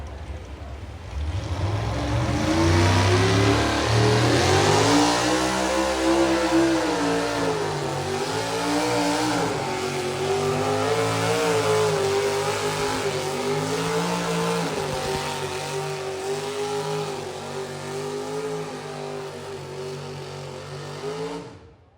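A 500-cubic-inch Chevrolet pulling tractor on DOT tires, weighing 6,200 pounds, roars at a tractor pull, its engine revving loud and hard through rising and wavering pitches for about twenty seconds before fading.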